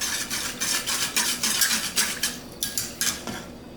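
Crushed Mexican oregano being stirred into pickling liquid for refrigerator pickled onions, a spoon clinking and scraping against the container in quick, rhythmic strokes, close and clear with no voices.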